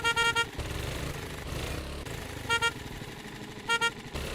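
A vehicle horn in the zombie survival game 7 Days to Die honks in short bursts, a quick double toot at the start, another pair midway and a final pair near the end, loud and close over a steady engine drone.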